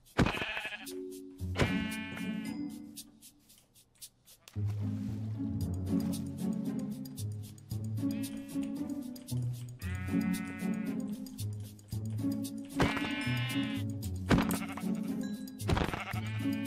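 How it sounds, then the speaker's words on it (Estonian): Sheep in the video game Minecraft bleat over and over in loud, close, wavering calls, several overlapping, with short gaps and no talking. "siin on nii palju lambaid"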